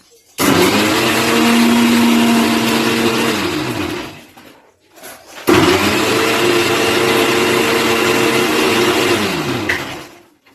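Kitchen mixer grinder running in two loud, close bursts of steady whirring, each lasting several seconds, separated by a short pause and ending abruptly.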